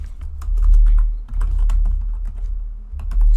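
Python code being typed on a computer keyboard: loud, close, quick clusters of key clicks with short pauses between bursts and no speech.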